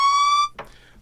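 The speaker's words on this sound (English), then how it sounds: "I need to sound the alarm real quick." A bright electronic alarm beep holds a steady high tone for about half a second, then cuts off, followed by a brief softer click.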